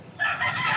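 A rooster crows in a makeshift chicken and pigeon farm under a bridge, a brief, sustained, fairly loud crow that cuts off quickly.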